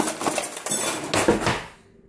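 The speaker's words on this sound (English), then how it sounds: "You just get the cutlery and you just put it in the drawer like that." Metal cutlery is dropped into a kitchen drawer in a few quick rattling clinks and clatters, close and fairly soft, fading out toward the end.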